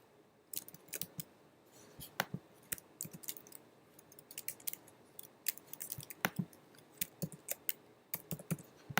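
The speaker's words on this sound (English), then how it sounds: "my keyboard doesn't seem to want to work at the moment" Sharp clicks from typing on a computer keyboard, irregular bursts of keystrokes with short pauses, close and fairly quiet, no voices.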